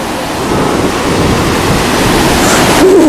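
Ocean surf rushes onto a beach in a loud, continuous wash, with a brief voice near the end.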